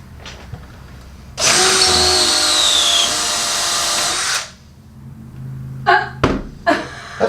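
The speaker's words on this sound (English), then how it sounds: "That was a brand new drill bit." A power drill fitted with a brand new drill bit whines loudly and steadily for about three seconds, then stops, leaving a few thuds and knocks close by.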